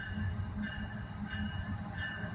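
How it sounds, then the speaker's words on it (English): A passing coal train rumbles steadily with rolling wheel noise and faint squeals, continuous and fairly close. "Looks like a coal train."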